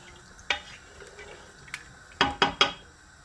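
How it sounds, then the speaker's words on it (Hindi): Water is poured into a pressure cooker holding meat in a home kitchen, with a brief splash followed by three quick, close sloshing pours, with no talking. "मैंने इसमें इतना पानी डाला है"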